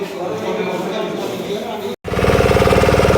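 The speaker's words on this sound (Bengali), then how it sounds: "আমাদের বোট ছেড়ে দিয়েছে" A motorboat engine starts up on Chilika Lake, first a rough, busy rumble, then after a brief cutout a steady, loud, rhythmic chugging close by, with voices around it.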